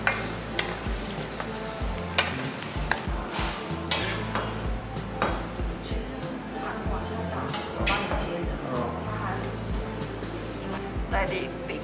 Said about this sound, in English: Now we stir fry a bit and let it all boiling